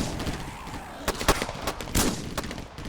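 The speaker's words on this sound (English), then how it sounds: "The gunshots are still going off from the hallway." Scattered gunshot sound effects going off in a hallway during a Resident Evil tabletop role-play, several sharp cracks at irregular intervals over a noisy bed.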